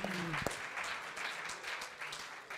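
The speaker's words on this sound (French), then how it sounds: "une dernière fois de tonnerre d'applaudissements pour Nina" A small seminar audience claps for a speaker, a brief, fairly faint patter of applause after a quick voice at the start.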